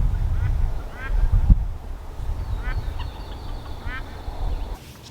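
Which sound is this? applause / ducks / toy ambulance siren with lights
ducks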